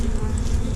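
A dense, steady buzz of many honey bees droning close by during an under-floor hive removal, continuous and unbroken for a brief moment.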